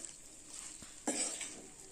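Sesame chutney stirred in a bowl, sesame mixed with lemon and chilli: a quiet, hissy background broken by a soft tap and then one brief scraping stroke of a spoon against the bowl.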